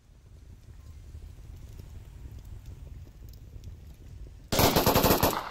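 Gunfire in the VR shooter game Onward: soft distant ticking shots for several seconds, then a sudden loud, close burst of rapid automatic fire at the end.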